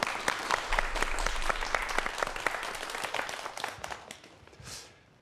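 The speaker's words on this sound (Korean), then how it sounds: "자, 여러분 다시 한번 박수 부탁드릴게요." An audience at a lecture on robots and drones gives a burst of close, dense hand clapping that thins out and fades over a few seconds.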